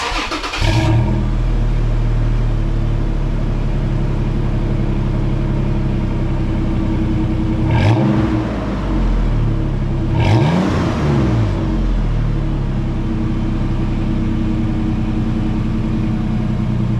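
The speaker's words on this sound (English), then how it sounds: "then we'll start it up, see how she sounds" A Toyota FJ Cruiser engine runs with a newly fitted stainless steel free-flow exhaust. It holds a steady, loud, close idle throughout, broken by a couple of brief revs.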